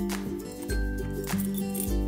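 A toy key turns in the lock of a small plastic toy house door, making soft clicks and light scraping rattles, close and quiet, against a faint steady background tone.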